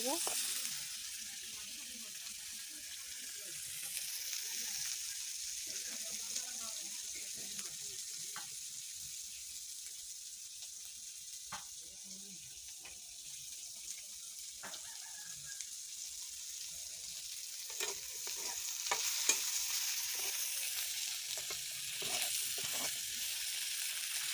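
Mustard seeds fry in hot oil as a spice tempering: a faint, continuous sizzling hiss with scattered small crackles and pops, heard from a short distance.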